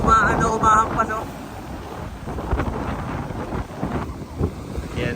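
Strong wind buffets a microphone outdoors in a continuous roaring rumble with gusty swells, loud and close throughout.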